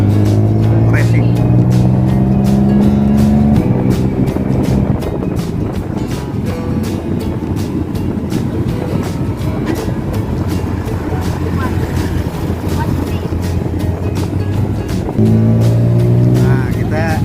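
Loud long-tail boat engine with a racing-style exhaust on a river in Bangkok, a continuous close drone with rising engine tones at the start and end, wind buffeting the microphone and voices talking over it.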